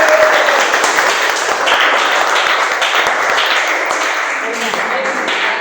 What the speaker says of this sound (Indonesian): Silakan tepuk tangan untuk kelompok 4